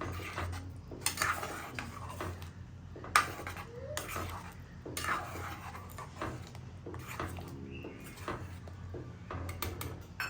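A spoon scraping and clinking in a pan while potato curry is mixed with chavanu, steady close metallic scrapes and taps over a low background hum, no talk.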